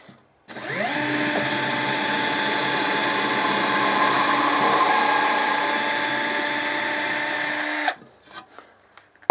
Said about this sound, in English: It quite easily drills a hole in this softwood.